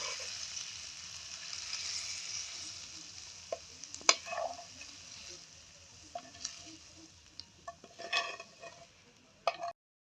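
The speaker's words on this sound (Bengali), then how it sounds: "মাংসটা আমার কষানো হয়ে গেছে" Chicken meat for samosa filling is sautéed in a pan, giving a quiet steady sizzle broken by sharp scrapes and clinks of a spoon stirring against the pan.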